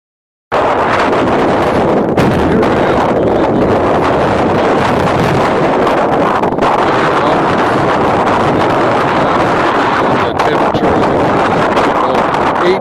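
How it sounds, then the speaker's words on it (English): Breezy outdoor wind buffets the microphone in a loud, continuous roar that stays steady from start to finish, with no voices. "It's a little breezy, as you can hear"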